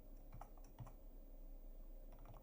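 Soft, quick clicks of typing on a computer keyboard, a short burst of key presses near the microphone against a quiet room hum.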